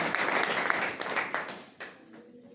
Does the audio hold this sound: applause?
yes